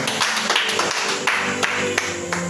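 A church congregation claps together in acclaim, a dense, steady wash of hand-clapping that carries on without pause for the whole stretch, loud and close, with no voices on top.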